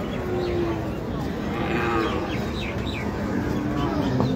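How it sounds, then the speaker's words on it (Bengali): Cattle being unloaded at the Hazratpur cattle market in 2025 give a few low moos amid a dense, steady crowd din, with faint bird chirps and distant voices throughout. "গরু এখন আনলোডিং চলতেছে।"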